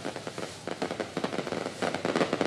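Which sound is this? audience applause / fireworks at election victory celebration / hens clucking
fireworks at election victory celebration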